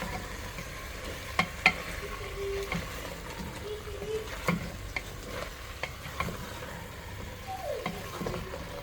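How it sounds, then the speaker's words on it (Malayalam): Chicken stirred continuously in a pressure cooker pot for biryani, a low sizzle under scattered spoon scrapes and clinks against metal, with occasional faint background noises and no clear talk. "നല്ലതുപോലെ കണ്ടിന്യൂസ് ആയിട്ട് 3 മിനിറ്റ് നേരം ഇളക്കി കൊടുക്കണം"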